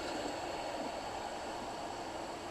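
Queensland Rail Inlander passenger train running, a steady faint rumbling roll of wheels on track with continuous broadband noise, no voices.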